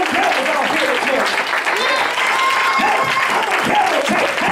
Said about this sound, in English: Give them a hand clap of praise this morning.